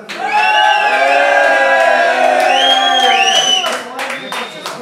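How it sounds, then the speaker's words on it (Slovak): A crowd at a rap battle shouts and cheers loudly in a sustained, overlapping roar of many voices, then breaks up into scattered yells and claps. "Zakričte, kto je za Miloka?"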